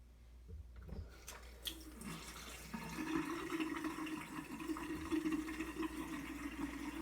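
Water from a kitchen faucet with low pressure starts up after a few clunks and runs steadily, a soft continuous splashing into a sink.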